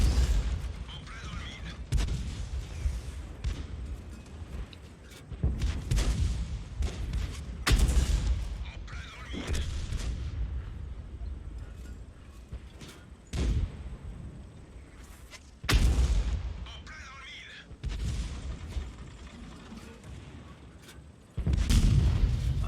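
Tank cannon shots in World of Tanks gameplay, with a Churchill and a Hetzer on the field: several loud booming blasts at irregular intervals over low rumbling battle noise, with a voice talking between the shots.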